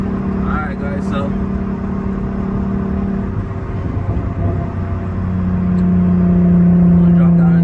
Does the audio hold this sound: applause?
no